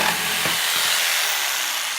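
Bosch JS572EB jigsaw cutting wood on orbital setting 3, a steady loud buzzing saw whine with rasping cut texture running through the whole stretch, close up and alone.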